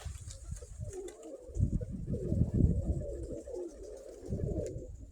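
Pigeons coo softly in low, repeated murmurs, with faint chirps and light outdoor background noise.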